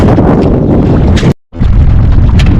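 Strong northeast monsoon wind roars and buffets the microphone in heavy gusts, broken by a brief sudden dropout before the roar resumes.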